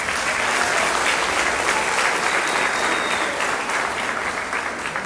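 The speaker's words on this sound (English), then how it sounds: "So I like to give all my guys that handle that a big round of applause." A crowd at the Apple Festival gives a big round of applause, loud dense clapping that carries evenly and starts to fade toward the end.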